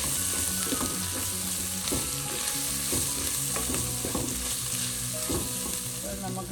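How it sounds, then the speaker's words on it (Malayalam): Oil heating with spices frying in a pan for a mint-leaf chicken curry, a steady loud sizzle with repeated scraping stirs throughout, no talk. "ഇത്രയും നമുക്ക് ഈ ഓയിലൊന്ന് മൂപ്പിച്ചെടുക്കാം"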